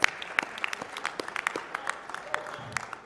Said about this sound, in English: Let's get a round of applause, please, for Michael Buffer.